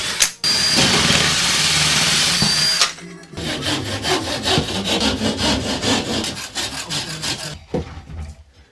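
A saw rasps loudly and steadily through a wooden board for a few seconds, then rougher intermittent cutting strokes follow with scraping and rubbing.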